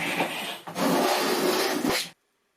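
A hand plane takes heavy, thick shavings while cutting a groove in a wooden stair nose: two long, close, hissing strokes separated by a brief pause, then silence.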